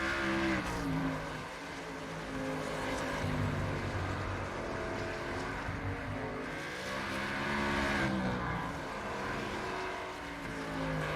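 Racing engines of NASCAR Cup cars in an iRacing sim race at South Boston Speedway, a steady loud droning roar with rising and falling pitch as cars circle, no talk.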